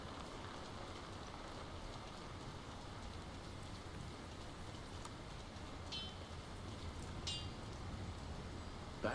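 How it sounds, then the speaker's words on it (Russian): Video game rain in Lord of the Rings: War in the North pours down in an even, dense wash, with a few faint high chirps breaking through near the end. "Почему в Броваре вечно идет дождь?"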